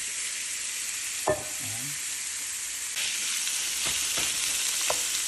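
Beef fries in a hot pan with olive oil, a constant bright sizzle with a few stirring clacks, close and steady, while a voice briefly speaks over it.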